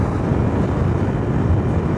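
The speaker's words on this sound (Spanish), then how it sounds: "está soplando viento fuerte" Strong wind buffets a motorcycle rider on a Brazilian highway, a loud, continuous low roar with constant rumbling turbulence and no break over two seconds.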